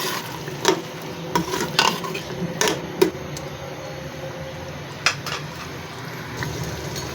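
A spoon scrapes and clinks in a pot as mutton curry with green chillies and half a cup of yogurt is sautéed, with a few sharp metallic knocks over a soft steady sizzle, no voices.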